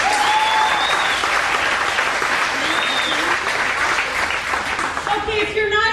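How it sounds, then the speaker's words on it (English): Live comedy show audience applauding steadily, a dense, loud wash of clapping with some cheering throughout, easing near the end as a voice begins speaking over it. "I want to hear you by a round of applause."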